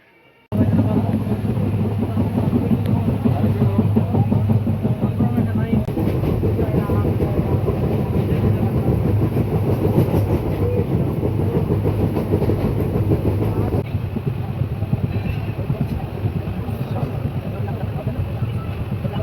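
Heard from inside a carriage, a passenger train rolls along the rails with a continuous loud rumble and rhythmic clickety-clack of wheels over joints, sustained throughout.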